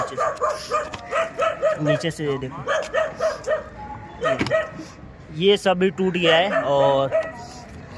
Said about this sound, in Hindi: ये देखो उधर कुत्ता भौंक रहा है।